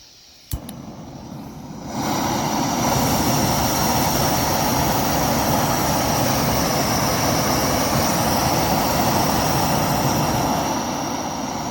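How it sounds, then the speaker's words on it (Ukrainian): A Terra Incognita Antares or Fire Maple camping gas burner without a regulator snaps alight after a click, then roars steadily at maximum flame, a loud close broadband hiss that holds to the end. "І зараз максимальне полум'я показую."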